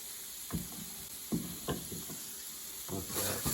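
Chopped onion cooks in about two tablespoons of olive oil in a pan, a soft low sizzle broken by several knocks and scrapes of a utensil against the pan, with no talk.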